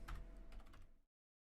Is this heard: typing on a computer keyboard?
yes